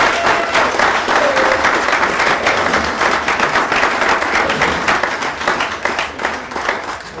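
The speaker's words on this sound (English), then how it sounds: "round of applause for Steve Ellmore." An audience applauds a speaker named Steve Ellmore at the close of a talk, with dense, steady clapping filling the room for several seconds before tapering slightly at the end.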